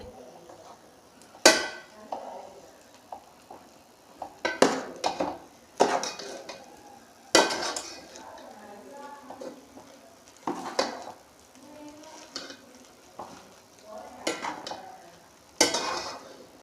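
A spoon stirs egg rice with mint and coriander in a pan, giving scattered scraping clinks and soft rustles at close range with brief gaps, no talk over it.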